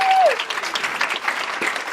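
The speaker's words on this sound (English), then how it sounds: "Clap it up for yourselves, ladies and gentlemen." A crowd claps outdoors at a ribbon-cutting grand opening in Wilmington, steady sustained applause at moderate distance, with a brief tone at the start.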